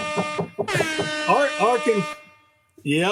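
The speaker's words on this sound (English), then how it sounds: "Wait, it's the upset air horn." A loud blaring air horn with steady harmonic tones sounds over talking, cuts off briefly, then blasts again at the end.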